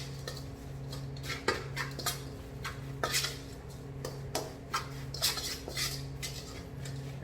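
Kimchi seasoning being stirred after a tablespoon of sugar goes in, with a spoon or utensil clinking and scraping against a bowl in irregular, close taps over a steady low hum.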